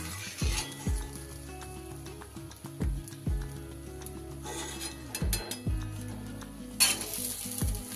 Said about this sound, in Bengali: বাকিগুলো আমি এক এক করে সব বড়া ভেজে নেব।